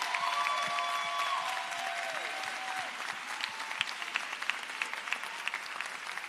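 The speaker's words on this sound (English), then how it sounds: "let's give Gary Chambers a round of applause for his leadership" A crowd at a People Power Tour rally in New Orleans applauds for Gary Chambers, broad steady clapping with a few sharper claps poking through and faint tonal sounds like distant cheers or whistles early on.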